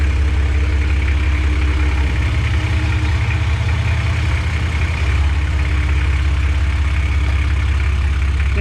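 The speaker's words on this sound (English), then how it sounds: "Now it is running straight out of the extractors as of yet." Loud, raw Toyota Land Cruiser engine idling with no exhaust fitted, running straight out of the extractors, a deep rumbling drone with a harsh unmuffled edge, steady throughout, briefly dipping lower in pitch midway.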